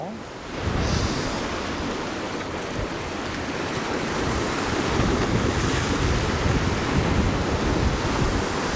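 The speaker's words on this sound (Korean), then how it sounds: "지금 여기는 파도가 좀 치고 올라오거든요" Sea waves surging and breaking against a rocky shore at a fishing spot, a loud continuous roar of surf mixed with gusty wind buffeting the microphone, swelling slightly over time.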